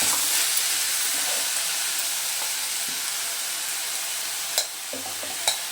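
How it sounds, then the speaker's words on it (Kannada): Vegetable fried rice sizzles in a pan over high heat, a continuous hissing fry with a few sharp stirring knocks near the end, close and steady, no talk. "ಇದನ್ನೀಗ ಜೋರು ಹುರಿಯಲ್ಲಿ ಈ ಥರ ಬಿಸಿ ಮಾಡಿ, ಜೋರು ಹುರಿ ಇರಬೇಕು, ಈ ಥರ ಜೋರು ಹುರಿ ಇರಲಿ. ಓಕೆ, ಈಗ ನಾನು ಇದಕ್ಕೆ ರೈಸ್ನ ಆ್ಯಡ್ ಮಾಡಿಬಿಡ್ತೀನಿ."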